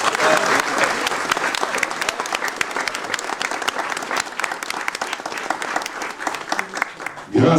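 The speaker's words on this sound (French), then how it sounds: "je vous demande de l'applaudir." Lively crowd applause at a carnival presentation honoring Manneken Pis in Martelange, dense rapid clapping with sharp individual claps throughout and some crowd voices underneath.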